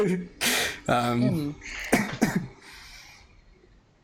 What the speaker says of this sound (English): he like does this petty little like cough into his sleeve